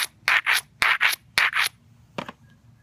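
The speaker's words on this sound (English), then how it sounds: "I'm going to grind the ridge" A stone tool edge, with its ridge ground by repeated strokes of an abrader, gives harsh rasping scrapes in a steady rhythm of about six close, loud strokes, then a lighter scrape, with no talk.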